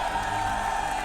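An esports crowd cheers for TNC after their win at a live event, a steady, distant roar of cheers and applause that holds without a break through the whole second.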